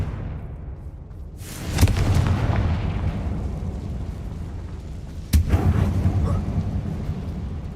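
The Confringo fire spell in a Harry Potter video game sets off two loud booming blasts a few seconds apart, each with a sharp crack followed by a rumbling, roaring tail.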